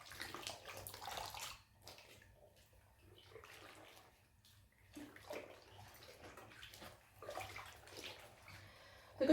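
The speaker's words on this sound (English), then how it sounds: "now I'm agitating it all in there to make sure that the fixative does what it's got to do" A fabric jumpsuit is swished and agitated in a tub of dye fixative, giving faint, close sloshing and splashing in uneven waves with short quiet gaps. A sharper splash comes at the end.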